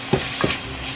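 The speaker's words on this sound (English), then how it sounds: "And then just saute this." Pork sautéing in a pan with plenty of pepper: a faint steady sizzle with two brief stirring scrapes near the start, close and quiet, no talk.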